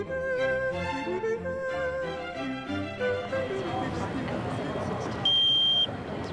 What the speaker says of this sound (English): Clearly this beep is a user error.